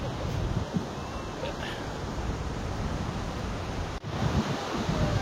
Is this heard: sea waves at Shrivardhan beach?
yes